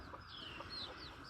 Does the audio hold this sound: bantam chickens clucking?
yes